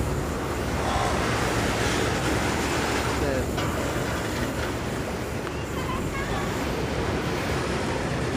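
A train from Cilacap bound for Rancaekek station rolls along a curved railway track with a loud, continuous rumbling roar heard close by, with voices mixed in beneath it.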